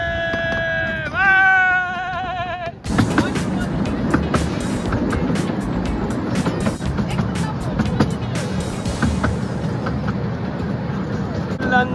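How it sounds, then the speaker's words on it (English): A London Underground Central line train passing on a sunny day, a loud rumbling, rattling rush of wheels and carriages after a brief squealing tone, close by with steady clatter throughout. "Central line train. Look at it."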